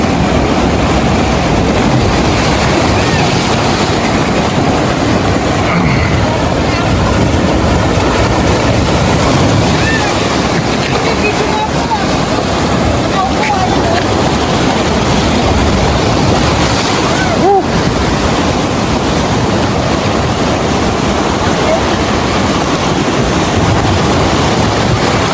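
Strong morning sea waves surge and crash at a beach resort in Bani, Pangasinan, a loud continuous roar mixed with wind buffeting the microphone, with people talking now and then.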